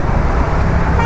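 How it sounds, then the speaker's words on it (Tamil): Heavy street traffic in Bangalore heard from a motorcycle, a loud dense roar of engines and road noise with a short car horn toot mixed in. "டிராஃபிக்கு ரொம்ப மோசமாக இருக்குது"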